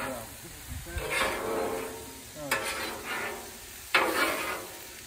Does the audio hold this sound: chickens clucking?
no